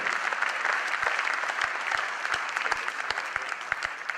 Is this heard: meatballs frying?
no